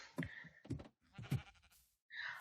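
Sheep bleating in Minecraft, several short separate bleats in quick succession, close and fairly clear with brief silent gaps between calls.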